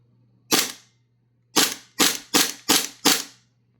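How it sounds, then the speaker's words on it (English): Airsoft pistol dry fired toward the ground with no magazine lockup: one sharp, loud snap, a pause of about a second, then five more quick, even clicks in a steady rhythm, close by over a faint low hum. "I'm going to dry fire it on the ground"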